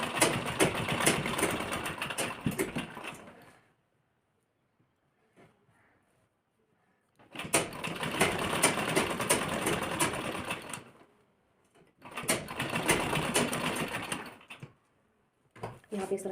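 A sewing machine stitches lehenga blouse fabric in three sustained runs of rapid, close mechanical whirring, separated by quiet pauses.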